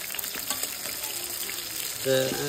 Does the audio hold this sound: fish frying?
yes